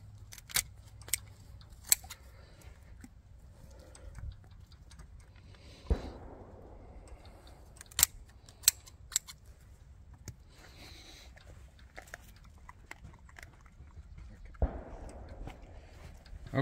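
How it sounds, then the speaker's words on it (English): Shears or a knife cutting through the front leg joints of a meat rabbit during skinning, heard as scattered sharp snips and clicks with soft handling rustle across a quiet background. "another step you can do to make pulling the hide off easier is to go ahead and cut the front feet off first"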